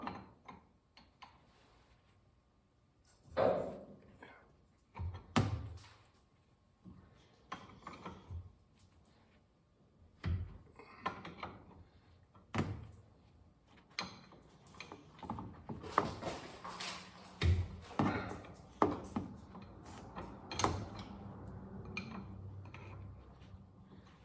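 Hand tools click, ratchet and clank against metal while a part is loosened on a big block engine being readied for winter storage, in irregular close bursts with pauses between them and no talking.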